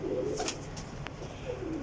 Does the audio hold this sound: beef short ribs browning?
no